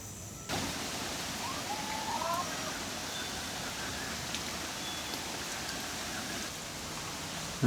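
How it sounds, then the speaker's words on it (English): Steady rain falls after nearly a week of wet weather, a constant soft hiss of drops with a faint bird call partway through. "It's still raining here."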